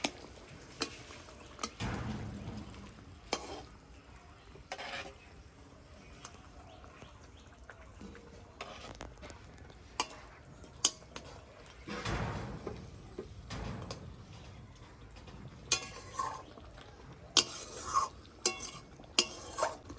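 Pieces of fried catla fish are stirred in a pan while cooking a catla roast, giving soft, intermittent scrapes and clinks of a utensil against the metal, fairly quiet, with short louder knocks toward the end.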